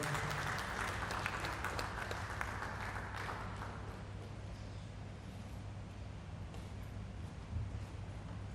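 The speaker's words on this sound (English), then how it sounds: "A round of applause." Audience applause at a graduation-style ceremony for future executives, a busy patter of clapping that is strongest at first, then thins and fades over several seconds beneath a steady low hum.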